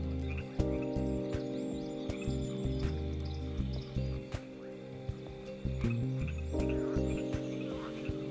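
Frogs and toads calling in a wetland, a dense steady chorus of croaks with repeated low pulsing calls and some higher insect-like chirps, continuous and fairly close throughout.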